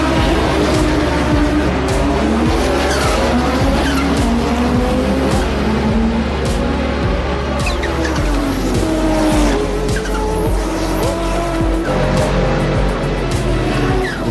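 A 1988 Audi Trans Am race car drives hard on track, its engine roaring loud and close with shifting pitch and squealing tires throughout, a continuous dense racing din with no pauses.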